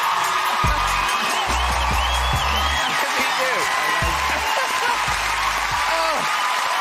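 A television studio audience screams, cheers and applauds loudly and continuously for a returning film-star guest on a chat show, a dense roar with whoops throughout.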